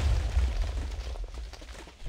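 TNT blasts on a Minecraft parkour map in a video game, with a deep rumbling explosion that fades over about two seconds into softer crackling debris.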